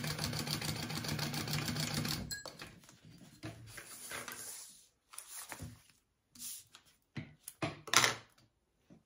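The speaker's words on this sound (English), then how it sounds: "I'm gonna go ahead and stitch up the side as well here" A sewing machine stitches the side of a leather ladies' wallet in a fast buzzing run that stops after about two seconds, followed by scattered handling clicks and light clinks.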